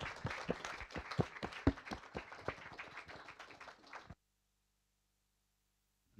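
A modest audience at a film-industry panel on the European Film Market claps. The individual hand claps are distinct and fairly close. The applause lasts about four seconds, then stops abruptly into silence.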